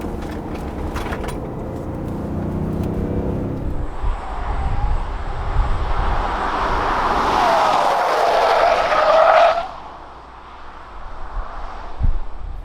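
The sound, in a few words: Kia Mohave SUV driving on the highway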